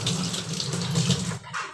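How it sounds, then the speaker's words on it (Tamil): Sticky hands are rinsed under a running tap, a close, loud splashing stream that cuts off briefly near the end before resuming. "கொஞ்சம் தண்ணியை வச்சு கழுவிக்கலாம்."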